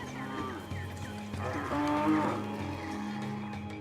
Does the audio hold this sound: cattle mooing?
yes